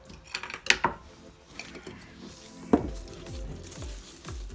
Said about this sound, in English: And I'm going to ask Sophie to start stirring.